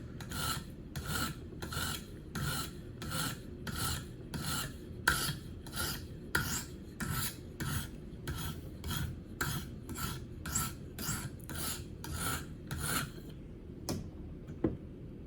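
Gerber Paralite knife blade sharpened on a high-grit KME stone: about twenty even, rhythmic rasping strokes in a steady back-and-forth pattern, close and fairly quiet, ending with a couple of light taps and no talking.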